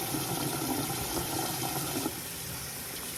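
Water runs steadily from a tap while a face mask is rinsed off, a constant splashing rush that drops slightly in level near the end, with no voices.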